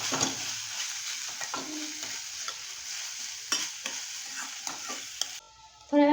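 Onion, ginger and garlic sautéing in a pan for green peas kheema, a steady close sizzle with stirring scrapes throughout, ending with a brief louder clatter.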